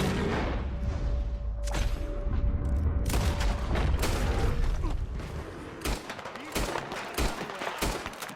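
Gunfire in Red Dead Redemption 2 rings out as a rapid series of sharp, loud cracks mixed with booms, dense at first and then spaced into separate shots, with voices shouting over the action.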